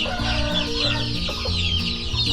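Chickens, including a mother hen with her month-old chicks, cluck in a steady, overlapping chatter at close range on a farm after a storm, with no talking.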